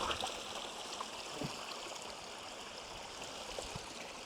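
A stream of water flows in a steady, unbroken rush, close by and fairly quiet, with small trickling and gurgling details on top.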